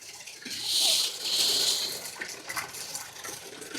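Tap water gushes into a bathtub during a Labrador's grooming, loud and close at first, then easing to a softer trickle with small splashes.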